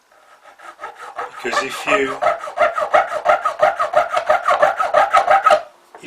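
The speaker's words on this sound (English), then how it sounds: "what I'm going to use is a small drawing file, boarding file, just to make the notches" A small hand file rasps notches into a Bachmann model railway diesel refuelling point part, a run of quick, even, close strokes after some handling noise, with a brief spoken word early on.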